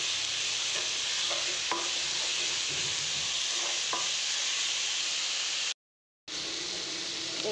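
Leafy greens sizzling in a hot pan with panch phoron, a constant close hiss punctuated by light stirring clicks and scrapes, cutting out briefly near the end before resuming.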